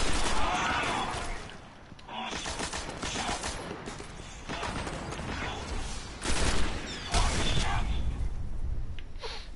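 Auto rifle gunfire in the video game Destiny crackles in repeated bursts across the stretch, loud and dense, with brief lulls near the two-second mark and a heavier flurry around six seconds.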